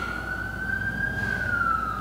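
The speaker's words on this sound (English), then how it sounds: "Don't mind the sirens." An emergency vehicle siren wails steadily outside at night, a clear sustained tone heard from indoors over a low background rumble.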